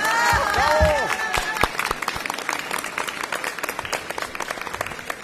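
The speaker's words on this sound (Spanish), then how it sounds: "por la diputada Carolina Marzana, a quien también aprovechamos de darle un aplauso por todo el trabajo realizado" Applause at a parliamentary announcement in Chile's Chamber of Deputies, a steady patter of many hands clapping after an initial burst of voices, continuing evenly to the end.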